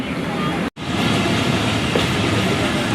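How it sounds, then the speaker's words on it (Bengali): A train slowing as it nears Mongla station rumbles along the rails with a steady roar and faint clatter of wheels, briefly cut out near the start. "ট্রেনের গতিও কিছুটা কমে এসেছে"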